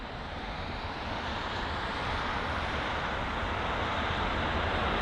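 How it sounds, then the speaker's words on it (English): A British Airways Boeing 777-300 airliner arrives to land at London Heathrow, with a broad, steady jet roar from a distance that grows slightly louder over a few seconds. "this here is the British Airways Boeing 777-300 arriving from Houston on its 8-hour and 10-minute long journey"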